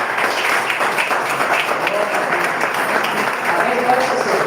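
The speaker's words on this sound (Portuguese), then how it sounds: "Aplauda ao Senhor." Church congregation applauding during a worship service, a steady wash of many hands clapping that fills the whole stretch at even loudness, with a faint murmur of voices under it.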